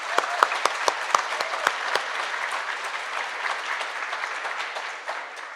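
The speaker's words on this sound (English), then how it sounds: "Let's give them a round of applause." An audience at a parks keynote gives the park staff a round of applause, with a few sharp individual claps at first swelling into steady, full clapping from many hands that holds to the end.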